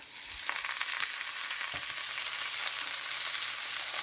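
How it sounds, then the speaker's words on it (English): Butter sizzles steadily in a pot after bacon has been cooked in it, a close, continuous frying hiss with a few faint stirring scrapes. "Be adding in our butter."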